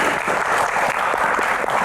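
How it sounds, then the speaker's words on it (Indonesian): Studio audience applause on an Indonesian Q&A talk show, a brief, loud, dense burst of clapping that stays steady from start to finish. "tepuk tangan dulu semangatnya"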